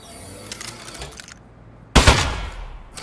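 Aperture Science Turret firing in the game Aperture Desk Job: a short burst of rapid gunfire erupts loudly near the end after a quieter stretch, with no speech.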